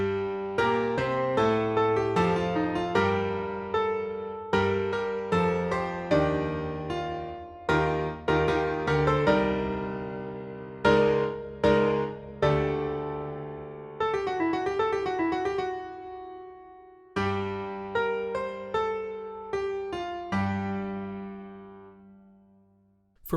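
A small marching band arrangement plays its opening hit, a string of punchy, accented brass chords and runs with decaying hits and a brief held passage. The full ensemble sounds together, with no talking.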